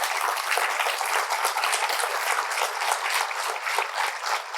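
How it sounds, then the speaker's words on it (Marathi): Audience applause at a book launch, a dense, continuous burst of many hands clapping together at even strength throughout, with no voices over it. "आता तुमच्या टाळ्यांच्या गजरामध्ये होत आहे"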